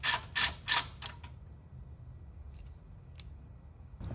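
Ratchet on a 10-inch extension turning a chassis brace bolt on a 1991-2005 Honda NSX, giving a few quick, close clicking bursts followed by quiet workshop ambience.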